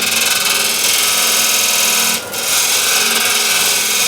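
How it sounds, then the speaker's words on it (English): A scraper is drawn across an 11-inch osage orange wood bowl spinning on a lathe, making a continuous loud, even rasping hiss with one brief dip near the middle and no talking. "Need to shear scrape it"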